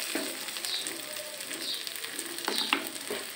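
Chilies frying in a pan, a soft, steady sizzle with occasional sharper crackles and stirring scrapes, heard close and alone.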